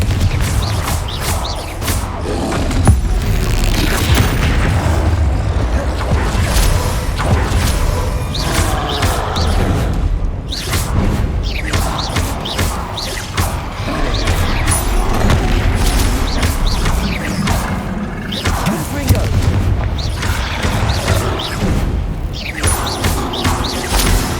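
Confringo blasting spells explode repeatedly in the video game Hogwarts Legacy, with a long string of loud booms, bursts and crashing impacts arriving in irregular succession amid dense, rumbling combat noise.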